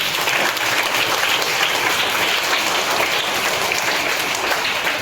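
An audience at a school birthday celebration claps loudly and steadily, a dense, even burst of applause that fills the whole stretch with no voices over it.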